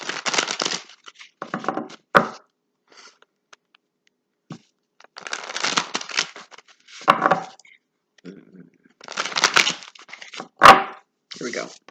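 Bursts of rapid paper-like riffling and flapping recur several times with quiet gaps between, like a deck of cards being shuffled, with sharp snaps at intervals.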